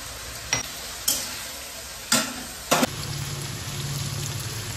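Crushed ginger and garlic go into a wok of frying potatoes. There is a low steady sizzle under a handful of sharp, separate clatters of a spatula, and the frying grows a little louder toward the end.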